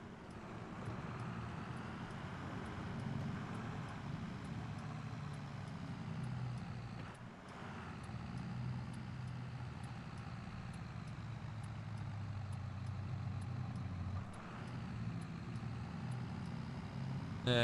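A tractor on a UK dairy farm rumbles along through a village and up a hill, a steady low engine drone heard from the cab with brief dips in level.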